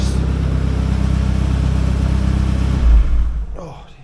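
An Audi TT 1.8T 20v turbo engine in a Spire GTR kit car being cranked over, a loud steady droning churn that holds for about three seconds, then dies away into quiet.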